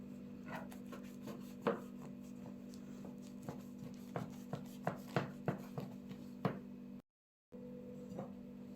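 A knife cutting a tray of crisp potato börek made from baklava yufka into four pieces gives repeated close, crunchy chops and scrapes against a steady low hum, with a brief dropout near the end.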